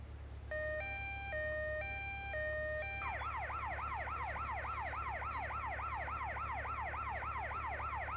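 An ambulance siren in GTA Vice City Stories on PS2 sounds loud and close, first a two-tone alternating wail, then switching to a fast, repeating rising yelp over a steady engine hum.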